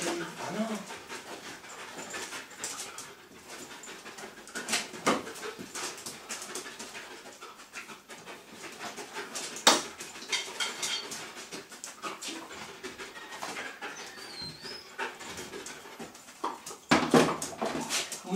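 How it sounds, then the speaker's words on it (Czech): A dog pants and whimpers close by outdoors during a fetch game, quick breathy panting broken by occasional soft whines, with a person speaking intermittently in the background. "ten je dobrý pes"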